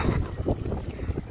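Steady wind gusts roar across a microphone on the way to a beach in the south-west of France, a loud continuous rush with no speech.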